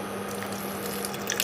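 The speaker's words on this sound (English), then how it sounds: "I am going to add a little water to it" Water trickles and splashes as a little is poured into a pan holding about a quarter cup of jaggery, a steady liquid pour heard close up with no talking.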